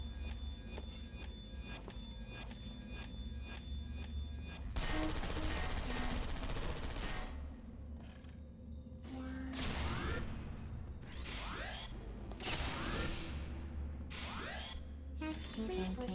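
Automated turrets in the puzzle game Portal Stories: Mel fire rapid bursts of gunfire, loud and close over a steady mechanical background hum, with the bursts coming in repeated clusters.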